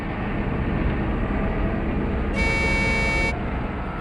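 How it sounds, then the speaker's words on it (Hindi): A truck horn sounds in a forest, one sustained honk of about a second rising above a steady rumbling background. "हॉर्न भी बजा रहा है।"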